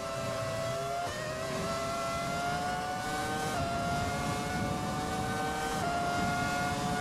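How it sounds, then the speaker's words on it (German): A Ferrari F1 2000 V10 racing engine in the F1 2020 video game screams at high pitch, holding a loud, sustained whine with steady gear-shift steps and rising revs throughout, with no voices. "kreischend und hochtönig schreit dieser Motor euch an"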